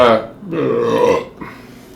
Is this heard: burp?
yes